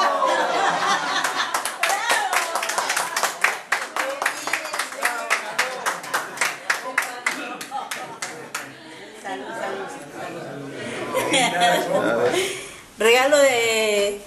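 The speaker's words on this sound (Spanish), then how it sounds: "Aplausos para Carlos." Spectators clap for a marathon runner crossing the finish line, a dense run of sharp handclaps mixed with cheering and chatter, with voices breaking through near the end.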